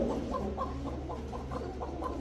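Pigeons at a pigeon seller give repeated low clucking coos, a steady run of short throaty calls close by, with no talk.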